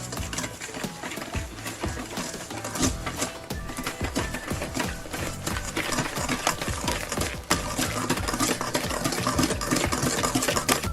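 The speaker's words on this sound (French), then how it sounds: "et on vient mélanger tout ça." Rapid, steady rattling whir of eggs and sugar being beaten together for a chocolate fondant batter, loud and close, running without pause, with no voices.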